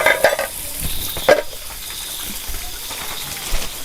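Onion and curry leaves frying in a pan at home, with a steady crackling sizzle and a couple of sharper stirring clatters partway through.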